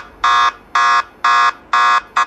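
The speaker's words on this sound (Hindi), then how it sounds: "वो इस तरह से अलार्म बजने लगेगा कि फ़ोन आपका यहाँ पे है" Anti-theft phone finder app alarm on an Android smartphone, sounding as loud electronic beeps: four long even bursts about half a second apart, the fifth cut short, clear and alone.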